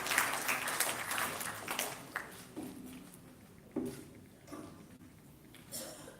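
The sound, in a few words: applause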